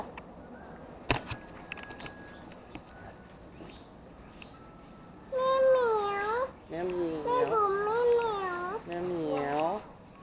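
A Thai domestic cat at a cat house in Samut Songkhram meows repeatedly and loudly close by, several drawn-out wavering cries in a row, after a quieter stretch of faint background noise and a brief knock.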